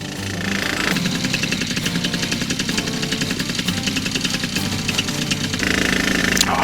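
A small two-stroke Black Bull model aircraft engine runs loud and close, a rapid rattling buzz that swells briefly near the end.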